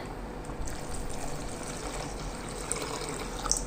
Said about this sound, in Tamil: நம்ம ரசத்துக்கு தேவையான அளவுக்கு தண்ணி சேர்த்துட்டு